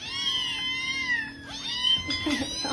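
A cat meows loudly and continuously, a drawn-out wavering cry that slides in pitch and then breaks into rougher, strained yowls near the end, close by with no talking.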